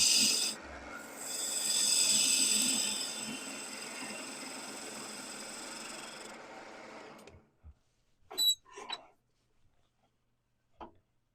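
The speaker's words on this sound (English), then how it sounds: "So just going to round it out with the bowl gouge." A sharp bowl gouge cuts a log spinning on a wood lathe. A continuous rasping, whirring scrape runs for about seven seconds and then stops, leaving a few brief knocks and clinks in near silence.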